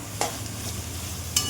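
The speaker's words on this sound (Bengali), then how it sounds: "নেড়ে চেড়ে পেঁয়াজগুলো লাল লাল করে ভেজে নেব।" Onions stirred and fried in a pan with turmeric and salt: a soft continuous sizzle with a low hum, broken by two brief scraping clinks of the spoon against the pan.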